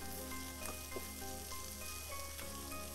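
Olive oil sizzling steadily in a pan while beef chowmein is being cooked, a close, continuous crackle with a few brief clinks and stirring sounds.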